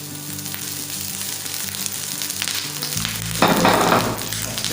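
Rice hitting a hot pan and frying with a steady sizzle for mango rice, the sizzle swelling loud and bright near the end as more is stirred in; no voices.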